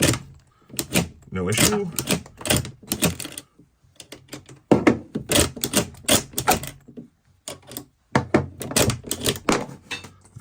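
Metallic clacks and slides from the bolt of an SMLE Enfield rifle being worked repeatedly, close and sharp, in uneven bursts with short pauses, mixed with brief speech.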